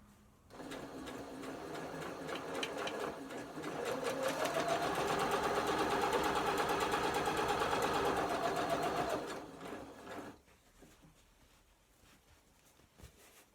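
A Butterick EB6100 sewing machine stitches a garden cushion cover, humming in a continuous run that speeds up mid-way and then slows and stops, with no talking.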